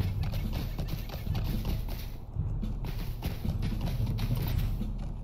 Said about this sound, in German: Für solche Strecken jetzt ist das Pferd richtig gut.